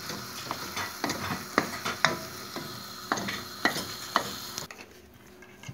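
Cooked mulberry halva scraped and emptied from a pot, with repeated irregular scraping and clanking strikes of a utensil against the pot, fairly close, before a brief quieter tail, no talking.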